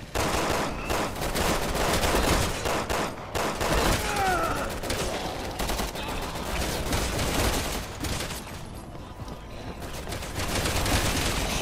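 Rapid automatic gunfire from the video game Resident Evil 6 rattles in dense, loud bursts with brief pauses and mechanical clicks, continuous across the scene.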